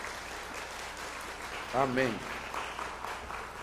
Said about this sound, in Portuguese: dá uma salva de palmas forte ao Senhor